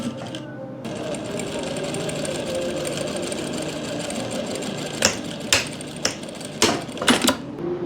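A sewing machine runs steadily, stitching lace onto a dupatta with white thread. The whirring hum is close and continuous, with several sharp clacks near the end.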